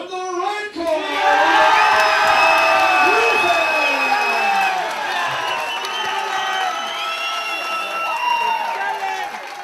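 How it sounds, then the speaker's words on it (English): Cheering, whooping and applause rise loudly from the crowd at a Thai boxing event after a split decision and keep going steadily for several seconds. "Ladies and gentlemen, we're cheering for our runner-up, Jason Ohara!"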